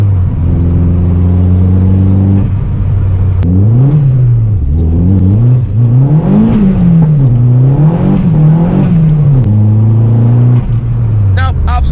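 A turbocharged Vauxhall Corsa B with a C20LET engine pulls hard through the gears, its loud droning note rising and dipping with each shift, captured close from inside the car.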